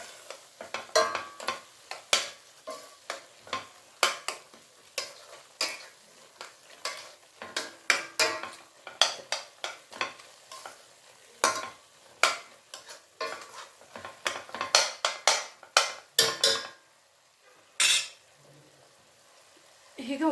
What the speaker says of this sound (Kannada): ಚೆನ್ನಾಗಿ ಮಿಕ್ಸ್ ಮಾಡಿಬಿಡೋಣ